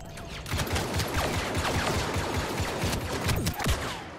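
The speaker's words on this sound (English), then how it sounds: "I'm getting shot at, I'm getting shot at." Rapid gunfire from a Star Wars Battlefront 2 firefight: dense overlapping blaster bursts and shots, loud and close, continuous for several seconds with no talk.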